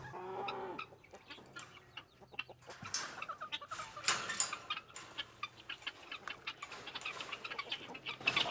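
Several hens cluck and chatter at close range outside their coop, with short bursts of clucks overlapping steadily, plus a low background hum.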